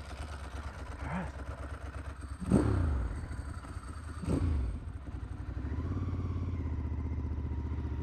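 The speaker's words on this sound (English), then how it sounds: "This is my typical stop sign throttle run." A Ducati Monster S4R v-twin motorcycle idles with a lumpy, clattering beat, then blips and accelerates from a stop sign in the Texas hill country, its engine swelling twice before settling into a steady, rising drone.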